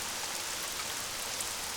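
Steady rain falls on a surface in May, a continuous even hiss of drops with no talking.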